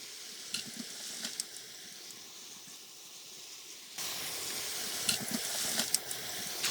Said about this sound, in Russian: мясо у нас зажарилось, аппетитной корочкой покрылось